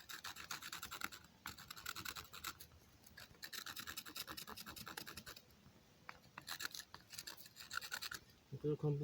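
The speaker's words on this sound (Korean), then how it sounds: "뾰족한 부분 다시 또 갈고" A stone axe head is ground by hand against rock, giving close, dry scraping strokes in rhythmic bursts with short pauses between them, fairly faint overall, and a voice speaks briefly near the end.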